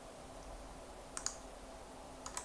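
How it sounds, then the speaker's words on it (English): Computer keyboard typing, a few faint sharp key clicks in two small bursts over a low quiet room hum, with no talking. "Somebody's typing, woohoo!"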